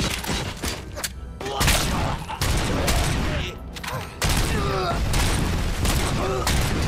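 Bursts of gunfire from the video game RoboCop: Rogue City, loud repeated shots and booms in clusters, mixed with game voices and a player talking over them.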